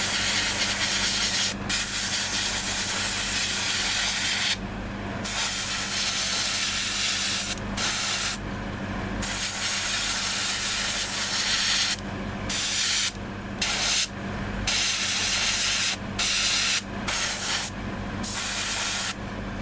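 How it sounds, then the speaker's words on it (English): Airbrush spraying paint to pre-shade the hair of a Hasegawa Egg Girls Claire Frost pilot figure model kit, a steady close hiss in long passes broken by brief pauses. "what's in the airbrush, I'm going to use it for pre-shading the back of her hair"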